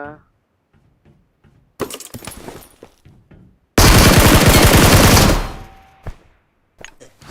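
Gunfire from the mobile shooter BGMI bursts out in rapid automatic volleys, one long loud stretch mid-clip among shorter shots, while someone talks excitedly over the game.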